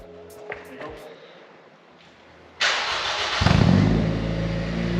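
A Honda Civic track car with a newly fitted rear anti-roll bar cranks and fires up, then settles into a steady idle that rises briefly with a light rev, preceded by a few faint clicks.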